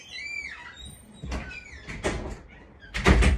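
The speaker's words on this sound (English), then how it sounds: "Shut this door." Several dull knocks and thumps of a door being pushed shut indoors, spaced across a few seconds and ending in a firmer final bang, over a faint background tone.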